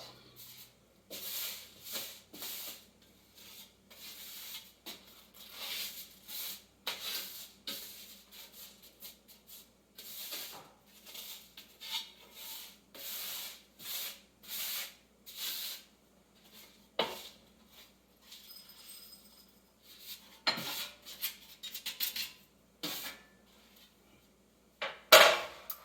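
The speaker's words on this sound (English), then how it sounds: "take the bottom of this mason jar and grind it up like that" Roasted dandelion root is ground in a small bowl with the bottom of a mason jar, giving repeated close scraping, rubbing and crunching strokes in an irregular rhythm with occasional glassy knocks and no talking.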